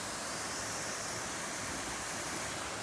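Floodwater rushes during a hurricane in a steady, loud, broadband roar that runs unbroken from start to finish, with no voices.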